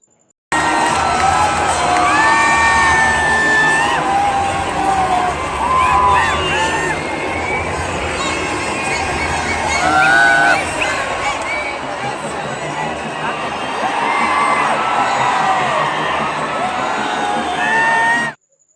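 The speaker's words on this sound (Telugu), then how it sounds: "పిల్లా పాపులతో కేకలతో స్టేడియం మొత్తం దద్దరిల్లిపోవడమే కాకుండా ఫుల్ కుసిలా మారిపోయిందని చెప్పవచ్చు" A packed crowd at Uppal Stadium during an IPL cricket match cheers, whoops and shouts continuously, with children's voices and loud swells rising and falling throughout.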